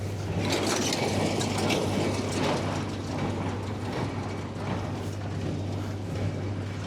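An old-style square hay baler runs in a field of cut hay, giving a steady, loud mechanical clatter of gears and plunger with continuous engine noise throughout and no pauses.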